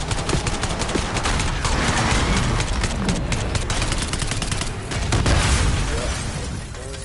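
Dense, continuous gunfire from the Black Ops 6 campaign: rapid automatic bursts and overlapping shots stay loud and unbroken throughout, with a brief shouted voice.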